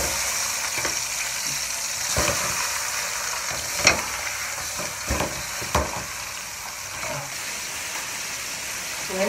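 Pieces of country chicken fry in a pan with melted mastic, giving a continuous bright sizzle broken by a few sharp clinks and bumps as they are placed and turned.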